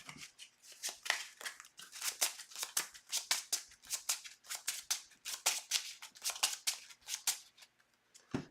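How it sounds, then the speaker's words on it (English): A deck of cards riffled and shuffled again and again during a Phoenix deck game, crisp rapid bursts of papery fluttering in a steady rhythm, close and clear with no talking. "we would have shuffled the Psychic Misdirection"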